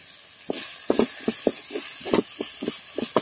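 Green chillies and curry leaves fry with salt in a hot pan, giving a steady sizzling hiss broken by short crackling pops, close up with no talking.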